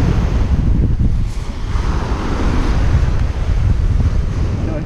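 Waves wash steadily onto a Caribbean beach in a low, continuous roar, with heavy wind buffeting the microphone and no voices.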